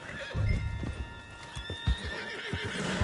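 A horse gallops in a PS4 video game, hooves pounding in quick uneven beats close up, with a brief whinny mixed in over the running.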